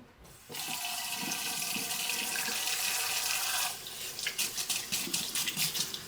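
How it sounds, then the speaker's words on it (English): Water from a tap runs steadily over hands at a kitchen sink for about three seconds, then shuts off, followed by drips and the splashy sounds of hands being rubbed and shaken under the tap. "let me wash my hands"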